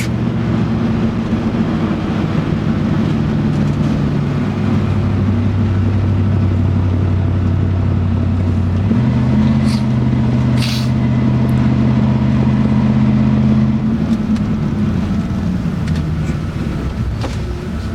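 A Chevy Express van engine hums under light throttle while climbing a steep grade after a 6L90E transmission swap, a low steady drone from inside the cab with a shift in pitch midway and no talking.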